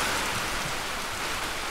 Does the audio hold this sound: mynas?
no